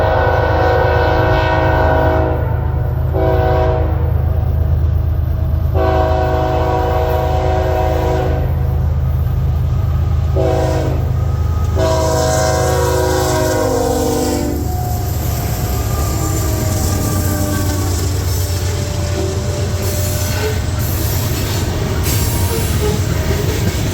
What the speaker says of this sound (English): 46A, the northbound grain train bound for Ayer, Massachusetts, is heading north.